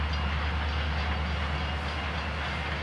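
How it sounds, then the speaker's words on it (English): A passing train rumbles steadily and fairly loudly throughout, a continuous low roar of rolling rail cars with no talk over it. "Sorry about the train."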